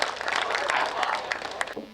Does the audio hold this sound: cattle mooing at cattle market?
no